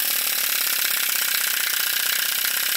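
Microcosm toy steam engine running under a slight load on its flywheel, giving a fast, even, rapid chuffing and ticking rhythm that stays constant and close, with no voices.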